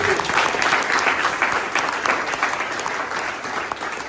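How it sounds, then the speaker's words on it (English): Applause from a crowd at an Alabama State House event, sustained, dense clapping that stays loud and steady throughout. "Rick Reed deserves a round of applause"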